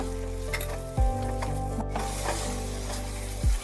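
Jaggery and chilli paste being stirred into a frying vegetarian chhana curry, with steady loud sizzling and a few scraping strokes of the spoon across the pan.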